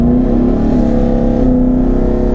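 A 2019 twin-turbo Ford Mustang revving, a loud, close, sustained engine drone holding a steady pitch with a slight rise and dip, a smooth mechanical whir running through it and no talk.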